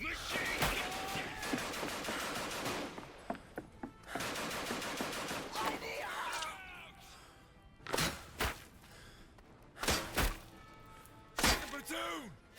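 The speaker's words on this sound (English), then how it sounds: "Machine gun!" Rapid machine-gun bursts in a war video game, loud, dense rattling volleys in the first half, then separate short bursts and single heavy shots later, with shouted voices over the firing.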